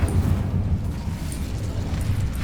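An Incendio fire spell bursts in Hogwarts Legacy with a low, rumbling whoosh of flame that swells and rolls for a couple of seconds.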